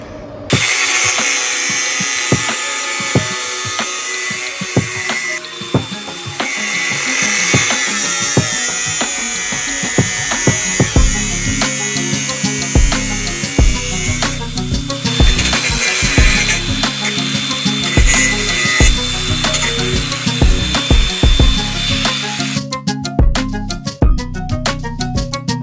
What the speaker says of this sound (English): uni struts that we need to cut into certain sections to stand off the tray off the wall